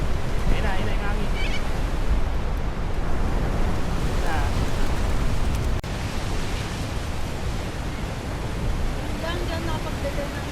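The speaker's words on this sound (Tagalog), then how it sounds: "Ayun na yung hangin." Strong wind roars steadily across the Kiama harbour coast, mixed with a constant wash of surf. The noise is loud and close throughout, and voices talk underneath it.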